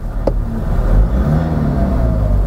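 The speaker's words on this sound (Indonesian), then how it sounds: "kebiasaan nginjak pedal gas, terus geber-geber mesinnya sebelum matikan mesin" A car engine revs loudly and holds a steady, rumbling drone throughout, the kind of throttle blipping done just before the ignition is switched off.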